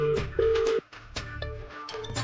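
A telephone rings during a Tamil television drama scene, a few repeated electronic ring bursts that cut off abruptly partway through, followed by quieter room sound with no talking.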